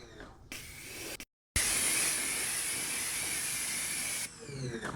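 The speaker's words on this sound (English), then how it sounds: "So let's rinse off the barrel brush." Water spray rinsing off a wheel barrel brush during wheel cleaning, a steady close hiss lasting several seconds after a brief cut, with quieter handling noise before and after.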